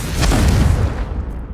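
A Confringo spell explosion in the video game Hogwarts Legacy, one loud, close, booming blast that fades out over about a second.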